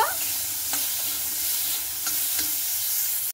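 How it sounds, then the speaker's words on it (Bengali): Washed potatoes sizzle in hot oil in a pan, a steady loud hiss of frying with a few faint stirring touches. "ওই তেলে এখানে আমি সেই ধোয়া আলুগুলোকে দিয়ে দিচ্ছি। দিয়ে আলুগুলোকে কিন্তু আমি লাল লাল করে ভেজে নেব।"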